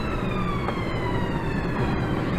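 An ambulance siren sounds in road traffic, heard from inside a vehicle as a steady, fairly loud wail over dense road and engine noise.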